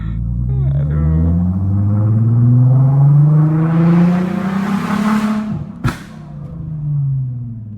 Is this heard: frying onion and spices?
no